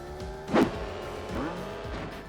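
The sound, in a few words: kart racing engine sounds from video game Crash Team Racing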